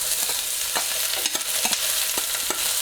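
Onion cooking in a pan for a Chinese-takeaway-style chicken dish, with a constant bright sizzle and several sharp stirring clicks and scrapes spread across it, close by with no talking.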